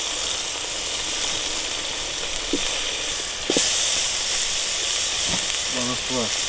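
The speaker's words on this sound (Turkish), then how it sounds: "Oğlum çok çabuk ısındı, kaynıyor." Water heats on a camping stove outdoors with a steady hiss that jumps noticeably louder about halfway through. A few brief knocks and faint voice-like tones are heard near the end.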